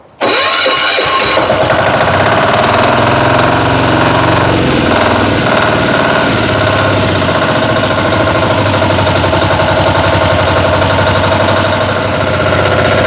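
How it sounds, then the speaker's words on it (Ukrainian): A Motor Sich MS 12 walk-behind tractor engine is cranked and catches within a second, then runs loud and close at a steady rough idle with constant mechanical vibration, with no voices heard. "давайте подивимось, як запускається мотоблок, моторсіч мс 12"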